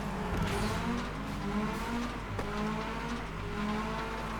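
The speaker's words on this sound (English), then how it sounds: "Quickly accelerate with a little bit of boost." Race car engine in FlatOut Ultimate Carnage, a steady loud rising whine as the car accelerates hard with boost, alone without talk.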